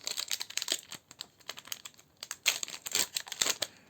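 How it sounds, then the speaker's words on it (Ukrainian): Paper packets of collectible cards being torn open and handled, giving close, irregular crinkling and tearing bursts with short pauses, no speech. "На цей раз я буду відкривати свої останні карточки, своїх останніх 25 карточок."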